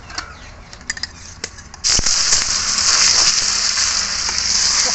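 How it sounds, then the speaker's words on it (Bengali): Paneer dropped into hot oil in a kadai, a sudden bright sizzle that starts partway through and then holds as a loud, steady hiss, preceded by light taps and clatter. "এবার পনিরটা ভেজে নেব"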